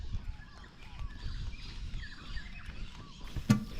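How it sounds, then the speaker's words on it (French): Parrots calling in Australia, several rising and falling squawks and whistles scattered through a busy outdoor backdrop with low rumbling noise, moderately distant, with one sharper knock near the end. "on entend plein d'oiseaux, il y a plein de trop beaux oiseaux ici, genre des perroquets de ouf"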